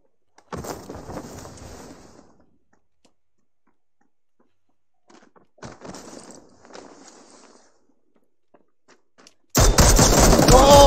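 Gunfire in the video game PUBG, with two short volleys of automatic shots separated by silence, then a sudden, much louder and closer burst at the end.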